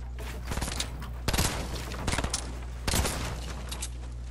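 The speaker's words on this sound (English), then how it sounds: "I'm getting shot at" Bursts of gunfire in a Fortnite match ring out in clustered volleys of sharp, loud shots, with quieter scattered shots between them over a steady low game hum.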